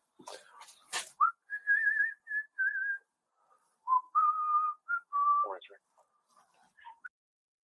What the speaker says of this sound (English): The whistling is cracking me up.